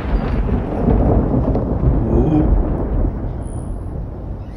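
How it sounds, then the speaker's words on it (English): Thunder rumbles loud and deep for several seconds during a rainstorm in California, a long rolling low roar with rain beneath, and a person briefly exclaims. "You can hear some thunder."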